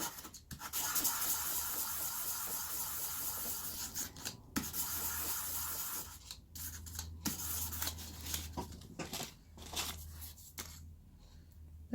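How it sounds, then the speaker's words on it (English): Smooth sandpaper rubs over small sawn metal jewellery pieces, producing close, dry scratching strokes in irregular bursts with short pauses between passes. "I'm just going to give them a quick buff with some sandpaper"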